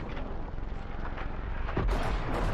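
A legendary weapon fires in Cyberpunk 2077, a dense booming blast rolling under a constant loud low rumble, with a sharper heavier burst near the end.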